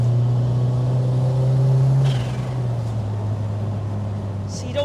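A 1.8-litre E30-engined BMW 2002 Turbo spins up under load, a loud steady engine drone that climbs and then eases to a lower tone, heard close from inside the car with no talking.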